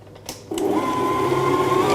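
An electric cake mixer starts up after a couple of clicks and settles into a steady whirring motor drone, close and constant while mixing a rich fruit cake batter.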